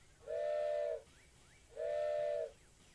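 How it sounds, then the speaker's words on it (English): A steam-style train whistle in the Dinkum video game sounds two sustained, evenly spaced blasts, each about three-quarters of a second long, with soft hiss between them, moderately faint and with no talk. "I love the train whistle"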